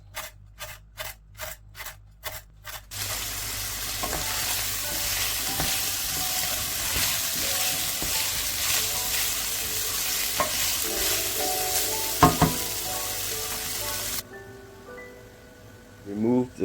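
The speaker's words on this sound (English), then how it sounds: "Sauté these ingredients lightly in the pan." Lemongrass and other pumpkin-soup ingredients sauté in a pan. A steady, close sizzle with stirring scrapes runs for most of the stretch after a few sharp taps at the start, then stops abruptly near the end.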